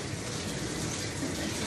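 Water runs steadily from a tap while a dog is bathed and rinsed at home, a continuous even gush with no pauses.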